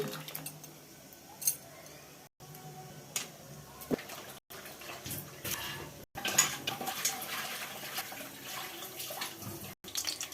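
Water runs and splashes in a sink while dried fish is washed, with intermittent clinks of dishes and handling noises, fairly close and moderately quiet.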